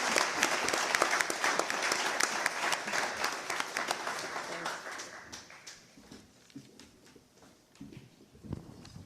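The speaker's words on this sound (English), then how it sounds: "a round of applause for our panelists here who didn't know what they were going to face and did good" Audience applause for panelists at a public safety forum: loud, dense clapping that gradually thins out and fades, with a few scattered late claps at the end.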